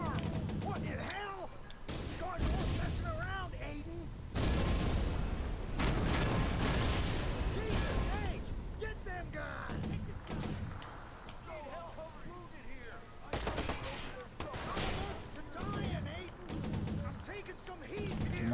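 Gunfire in the video game Watch Dogs, sharp reports and cracks breaking through a dense, loud mix of game noise, with someone talking over much of it.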